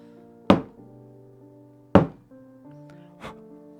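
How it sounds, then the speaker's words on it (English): A large cup of acrylic pouring paint is tapped on a hard surface, three separate knocks spaced about a second and a half apart, each with a short, hollow ringing tail, close and fairly loud, with no speech. "I'm tapping this big old cup popping the bubbles that have risen to the surface"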